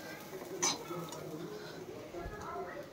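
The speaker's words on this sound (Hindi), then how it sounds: "इसको कंटिन्यू चलाते ही रहना है।" A spoon scrapes and clinks against a stainless steel pan while peas ghugni is stirred and roasted, with soft irregular scraping and a faint sizzle, fairly close, while someone talks over it.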